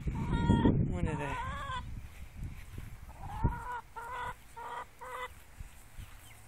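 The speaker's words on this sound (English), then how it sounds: "Here's some of our chickens." Backyard chickens, including a broody hen, cluck and make short squawking calls in a few bursts, close by, over a low rumbling outdoor background with a voice heard briefly.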